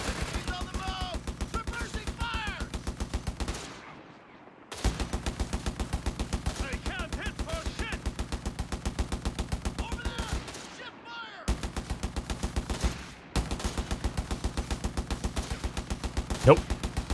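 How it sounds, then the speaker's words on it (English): Unveteranced .50 cal machine gun in Company of Heroes 3 hammers out long sustained bursts of rapid, evenly spaced shots, broken by two short pauses, with faint game effects underneath. "This is an unvetted 50 cal, not even with the Vet 2 suppression bonus."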